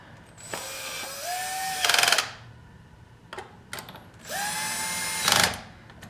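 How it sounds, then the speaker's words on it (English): A power drill on low speed and low torque whirs up in two slow bursts driving a bolt on a Toyota Land Cruiser, each ending in a brief ratcheting clatter, close by with quiet pauses between. "I'm gonna use the drill to put this back in"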